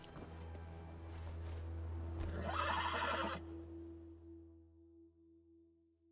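A horse in the video game Elder Scrolls Online whinnies in a loud, shaky neigh that fades out, over a low steady game-ambience hum.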